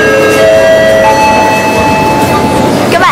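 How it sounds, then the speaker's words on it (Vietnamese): A metro train runs through Kievskaya station in Moscow's underground. It makes a loud, steady rumble with high whining tones and a squeal near the end. "đây là một góc của ga tàu điện ngầm Kievka."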